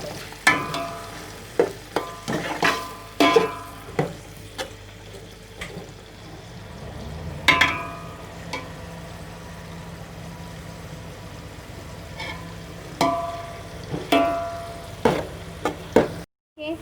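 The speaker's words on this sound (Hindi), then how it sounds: "प्याज को अब मैं ब्राउन करूँगी।" Onions frying in a pan as they brown for beef haleem: a low, steady sizzle under intermittent scraping and clattering strokes of a stirring utensil that come in clusters with quieter gaps between them.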